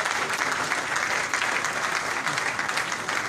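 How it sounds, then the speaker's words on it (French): Audience applause rings out for a church choir at an extraordinary church session, a dense, steady wash of clapping with little cheering, sustained and fairly loud throughout. "nous acclamons très fort pour la chorale de l'élection"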